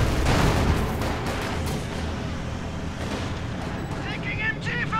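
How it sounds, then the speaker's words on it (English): Machine-gun fire in the war game Company of Heroes 2 comes as rapid, dense bursts mixed with booming battle noise, loud at first and then slightly softer, with a few chirping effects near the end. "Duska machine gun on the way."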